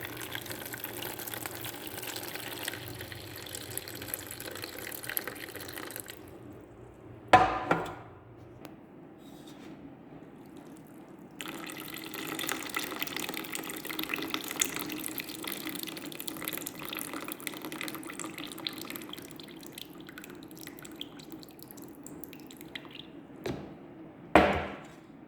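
Water is poured into a container to make rice water for hair care, in two long stretches of close, splashy filling with a few sharp knocks between them.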